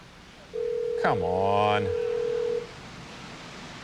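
Touch-tone telephone keypad being dialed: a long steady tone then a short burst of beeps, heard under a voice on a late-night talk show.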